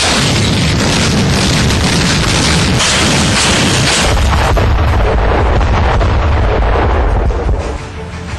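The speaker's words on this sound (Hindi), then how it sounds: "आसमान में दनादन फायर करते इस मिसाइल सिस्टम को देखिए।" Rocket artillery missile system firing a salvo, a loud continuous roar of launch blasts and booms filling the whole stretch with no pause.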